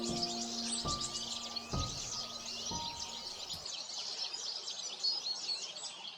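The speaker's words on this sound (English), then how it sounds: "The robins have been very territorial and displaying courtship and behaviours." Robins singing in the East Devon countryside, a dense layer of high chirps and trills carrying on steadily, with a few low tonal hums fading out partway through.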